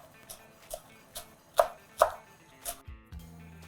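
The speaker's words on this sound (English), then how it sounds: "So let's start chopping." A knife taps a cutting board in a slow, uneven series of about seven distinct chops, roughly chopping coriander, fairly close, with no talking.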